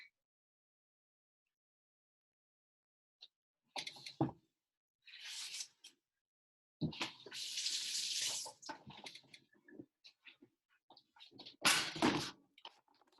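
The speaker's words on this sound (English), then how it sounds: "Washing my hands." Hands are washed under a running tap in bursts: several separate splashes of water stream and scrub, close and fairly loud, with silent gaps between them and no talking.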